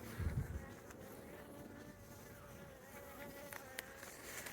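A faint, steady honey bee buzz hums low in the background, with a few brief louder passes as individual bees fly close.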